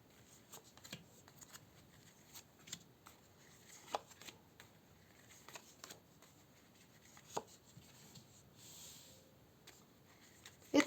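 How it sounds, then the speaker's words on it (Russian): Tarot cards shuffled and laid out one by one, faint, close-up papery slides and soft taps at an uneven pace, with no talk. "Я, наверное, разложу сейчас карты"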